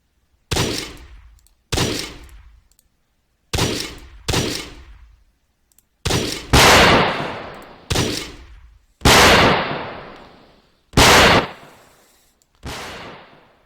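Loud, separate shots fired one after another from a 7.62 high-calibre weapon in a video game, about nine booming reports with short gaps between them, each leaving a long rumbling tail that fades out.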